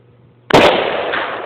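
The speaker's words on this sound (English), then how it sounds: "There's 3-round burst." An AR-15 rifle firing outdoors at a Tannerite-loaded big-screen TV target: one sudden loud blast after a quiet moment, followed by a long rolling echo that fades slowly.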